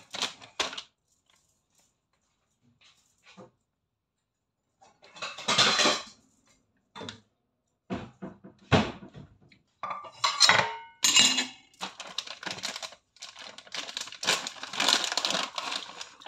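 Garlic is pressed and handled in a home kitchen, bursts of crunching, clinking and scraping separated by short silences, close and moderately loud, with no talking.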